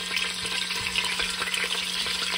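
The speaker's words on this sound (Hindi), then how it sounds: "यहाँ पर मैंने डेढ़ किलो चिकन लेग्स लिए हैं अब इनको हम फ्राई करते हैं" One and a half kilos of chicken legs frying in hot oil in a pressure cooker make a dense, close crackling sizzle with light stirring scrapes, no speech.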